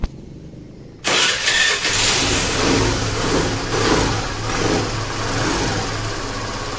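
A Suzuki Access 125 scooter, being tuned after a carburetor cleaning, is silent for about a second, then its engine catches and settles into a steady, loud, close idle.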